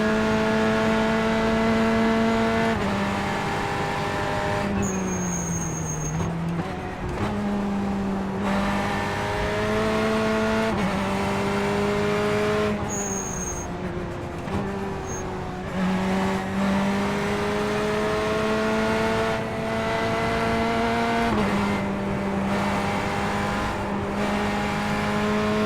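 Race car engine in iRacing at Willow Springs International Raceway, droning steadily and loud at high revs with pitch dips and rises through gear shifts and corners, no talking.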